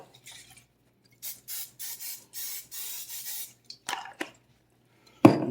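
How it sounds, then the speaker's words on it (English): Cooking oil spray hisses onto the bottom of an air fryer basket in a run of about seven short, evenly spaced bursts, close and fairly quiet, with a few light knocks and a final clunk. "I'm going to give this a little spray on the bottom."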